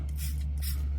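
Two short hissing bursts of leak test liquid sprayed from a nozzle onto a repaired heat exchanger on a Ski-Doo 850 snowmobile, close up, over a low steady hum.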